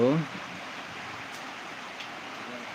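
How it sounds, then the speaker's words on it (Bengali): Rain falls in a rural farming village as a steady, even hiss of broadband noise, with a brief voice heard at the very start. "দেখতে পাচ্ছেন কত সুন্দর বৃষ্টি হচ্ছে।"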